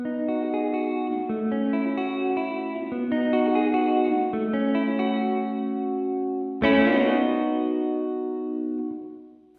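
A distorted electric guitar plays single-note riffs drenched in reverb, each phrase blending into a washy sustained tail, then a last struck note rings out and slowly fades.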